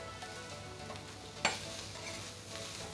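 Steak and onions frying in a little oil in a pan give a steady, even sizzle throughout, with one brief louder spit or stir near the middle and no talking.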